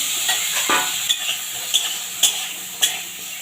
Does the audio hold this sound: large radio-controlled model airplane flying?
no